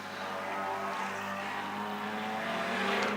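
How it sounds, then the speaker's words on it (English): Jaguar with a big 4-litre straight-six engine racing past at the Shelsley Walsh hillclimb, a loud sustained engine roar with a steady, rising note as it passes close by, no talk. "It sounds great, that Jag, doesn't it? With the straight, big 4-litre straight six in it."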